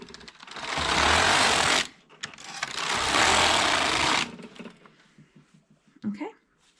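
A Passap E6000 knitting machine knits rows of ribbing, its carriage making two loud, sustained whirring, clattering passes separated by a short pause, each followed by quieter rattles and clicks.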